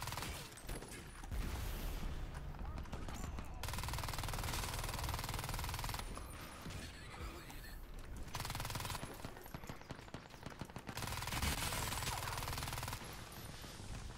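Automatic gunfire from Crysis 3 rattles in long, rapid bursts with short gaps between them. It sounds dense and fairly distant, and no one talks over it.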